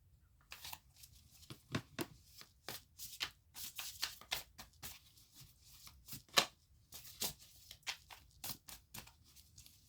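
Tarot cards being shuffled by hand, a quick irregular run of crisp riffles and flicks close up, with no talking.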